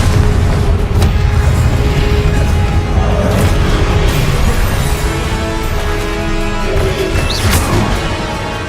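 Confringo fire-spell explosions in Hogwarts Legacy, several loud booming impacts and crashes spread across a busy, noisy battle.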